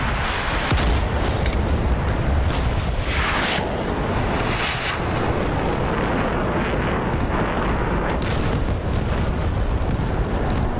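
Tank cannon fire in the combat flight game DCS World: a loud, continuous roar of battle noise with sharp blasts near the start and again later, and no talking.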